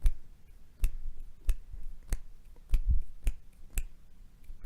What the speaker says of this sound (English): Try to clap and get all 3 of your fingers or all 4 of your fingers to slap the palm of your hand to make a clap sound.